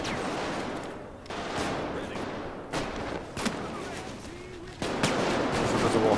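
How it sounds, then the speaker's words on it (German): Heavy gunfire from a big gun in the PayDay 2 video game, loud bursts of shots coming in uneven volleys, with a few sharp cracks standing out and a voice talking underneath. "Jetzt baller ich mit der dicken Wumme"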